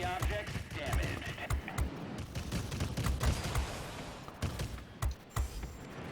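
Aircraft machine guns fire in rapid rattling bursts during a World of Warplanes dogfight in a Tier X Fw 252 fighter, close and loud, mixed with game effects and a voice talking over the action.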